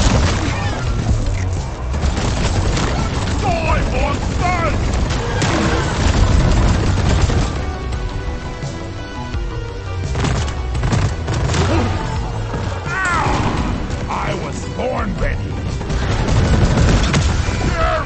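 Gunfire in the video game Deep Rock Galactic during a deep dive mission: dense, loud bursts of automatic weapon fire mixed with heavy booms and explosions, continuous throughout with occasional shouted voices underneath.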